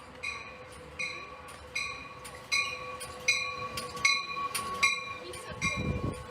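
A train's repeating bell or horn-like tones sound at a steady rhythm over a low rumbling hum, with a brief louder thump near the end.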